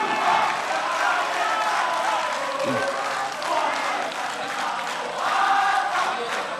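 Audience applause and cheering at the 2014 Indonesian presidential and vice-presidential candidates' debate on food, energy and the environment, a steady crowd roar with clapping that swells near the start and again toward the end, with voices mixed in.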